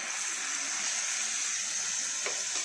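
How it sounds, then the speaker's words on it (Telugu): A cup of water poured into a pan of frying pond fish, Andhra-style sena fry, setting off a steady, loud, close hiss and gush that lasts throughout without a break. "దాంట్లో ఒక కప్పు వాటర్ పోసుకుని, కప్తో కానీ గ్లాస్తో కానీ వాటర్ పోసుకొని కొంచెం ఉడికించుకోవాలి"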